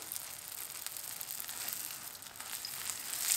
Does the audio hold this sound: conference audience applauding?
no